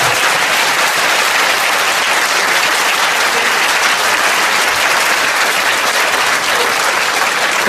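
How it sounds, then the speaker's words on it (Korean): Loud, sustained applause from a concert audience at a regular evening concert at the national cemetery featuring the armed forces symphony orchestra, a steady unbroken roar of clapping throughout. "박수 한번 좀 드리겠습니다"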